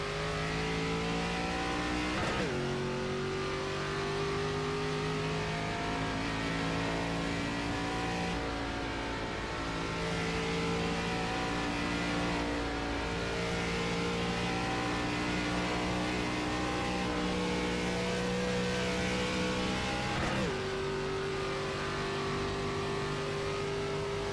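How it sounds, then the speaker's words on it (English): A NASCAR race car at North Wilkesboro revs hard at high RPM, its engine note climbing in long rising sweeps with brief drops at gear changes, loud and continuous throughout without any talk. "Let's get as much RPMs in this car as we can and as quick as we can."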